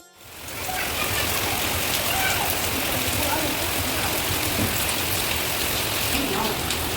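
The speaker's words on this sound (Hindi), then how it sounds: "तो हो रही है ना झमाझम वाली बारिश।" A heavy monsoon downpour drums steadily outdoors, a loud, continuous hiss of rain that starts abruptly and holds without pause.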